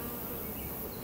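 Honey bees in a hexagonal hive give a steady, dense buzzing that stays even and close for the whole moment, with no talk over it.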